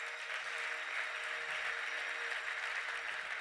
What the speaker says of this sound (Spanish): Un fuerte aplauso para Perú.